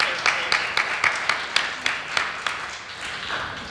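Applause from a live debate audience gathered in a garden, a steady wash of many hands clapping with a few sharper claps standing out, moderately close.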